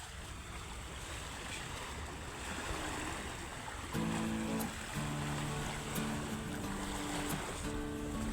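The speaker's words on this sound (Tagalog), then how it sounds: "Ang ganda ng dagat" Sea waves wash steadily around a boat off Nasugbu, a continuous broad surf and wind roar, with a low engine-like drone joining partway through.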